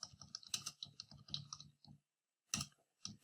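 Typing on a computer keyboard while coding an Arduino sketch: quick bursts of close, crisp key clicks, with a brief pause before a few more keystrokes.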